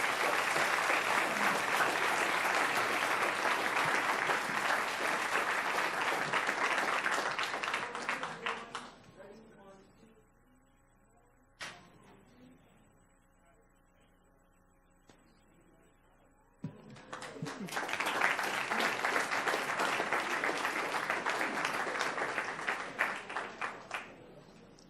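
An audience at a school board meeting bursts into loud sustained applause, fades into a quiet lull with a few scattered claps and a knock, then erupts again in a second strong round of clapping.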